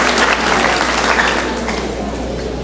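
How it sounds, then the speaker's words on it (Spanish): A church congregation claps loudly together during a worship service, dense sustained applause filling the space for the whole moment. "vamos a darle un fuerte aplauso al Señor"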